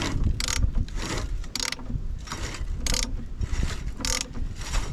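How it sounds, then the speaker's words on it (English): Crankshaft of an old diesel roller compactor, unused for thirty years, being turned by hand, giving close mechanical clicking and ratcheting with bursts of gritty scraping at irregular intervals. "You guys see the crankshaft is indeed turning."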